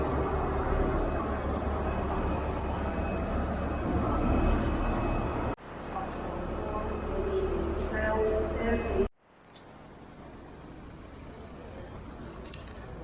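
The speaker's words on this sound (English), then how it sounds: "This is a train station" Station ambience at Glasgow Queen Street with a train's low rumble and hiss, then abrupt shifts to quieter surroundings, with people talking in the background.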